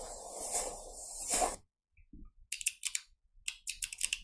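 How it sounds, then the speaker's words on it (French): Computer keyboard typing in an AI-generated Veo 3 scene, heard as bursts of crisp, close key clicks in quick irregular runs, following a loud hiss that cuts off. "Là, on entend le bruit du clavier avec une précision folle"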